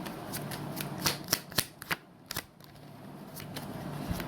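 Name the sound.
shuffling tarot cards to draw one more card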